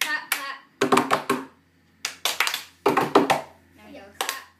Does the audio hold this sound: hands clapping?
yes